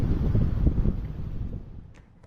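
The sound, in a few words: strong wind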